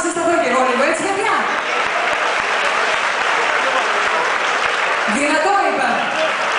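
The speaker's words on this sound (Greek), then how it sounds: "Ένα δυνατό χειροκρότημα." Loud applause from a theatre audience at a live show, a dense, continuous wash of clapping that fills the whole stretch, with cheers swelling near the start and end.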